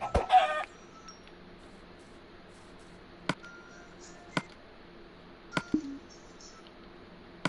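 Sporadic chicken clucks and short squawks from the video game Minecraft, spaced out over quiet background, with a louder burst of clucking near the start.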